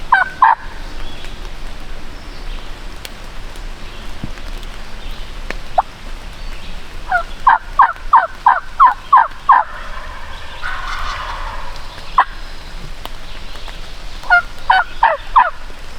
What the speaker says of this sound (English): Now that I know that these turkeys are coming in